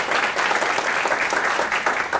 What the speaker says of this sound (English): Can we give them both just a round of applause?